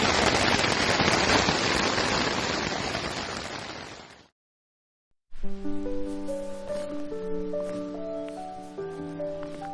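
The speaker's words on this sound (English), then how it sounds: "Quite heavy rain, I would say." Heavy rain pounds a tent during a thunderstorm, a dense, loud, steady hiss that fades slightly and then cuts off abruptly after about four seconds, followed by sustained tonal sounds.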